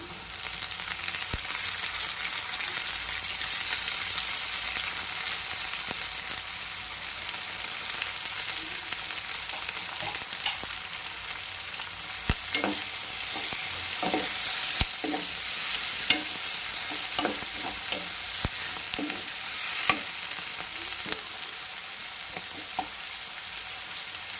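Onions and chopped fenugreek leaves sizzle steadily in a hot pan for a mutton fenugreek fry, with scattered scraping clicks as a spoon stirs the mixture, close and continuous.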